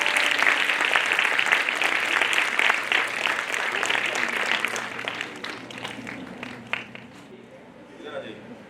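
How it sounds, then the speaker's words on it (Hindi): An audience at a women's college musical session applauds to honour the guests, full steady clapping that fades away after about five seconds, leaving a faint room hum and scattered voices. "ये तालियों के साथ अतिथि का सम्मान करते हैं।"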